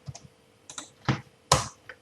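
Keyboard shortcut keystrokes for copy and paste while editing Kotlin API build configuration code, a few separate sharp clicks in short bursts at close range, with no talking.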